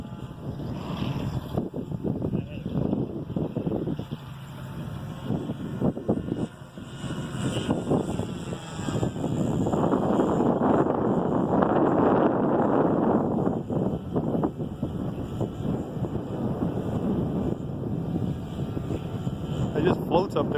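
Gusting wind roaring across an outdoor field while a Sig Kadet LT 40 RC trainer plane flies on its maiden flight, a loud, steady rushing buffeting with people talking over it.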